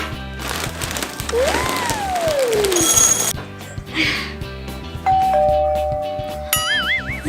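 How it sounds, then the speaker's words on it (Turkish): A bright electronic doorbell chime sounds over cheerful background music, followed by sliding tones and a warbling electronic effect. "Zil bakalım kim gelmiş"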